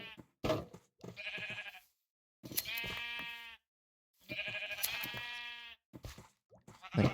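Sheep bleating in Minecraft, several long wavering bleats, close and clear with short gaps of silence between them and a couple of soft knocks, with no talking.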